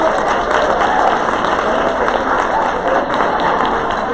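A full room applauding at a conference opening session, dense continuous clapping at close, loud level for about four seconds with no talk over it.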